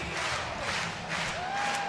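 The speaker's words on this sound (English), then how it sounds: "That's how you electrify the crowd early." Baseball crowd at an NCAA regional game between Ole Miss and Clemson cheering after a home run, a loud sustained roar of voices with a whistle rising near the end.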